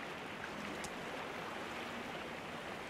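Steady soft rush of water from the Sons of the Forest survival game, a faint, even wash with no clear breaks.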